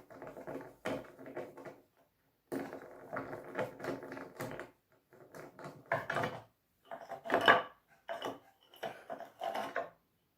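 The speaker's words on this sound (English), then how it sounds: "So in this situation I will unscrew the screws." Screws being worked loose while a wooden harmonium is taken apart: faint, close clicks and scraping rattles in irregular clusters separated by short pauses, with no talking.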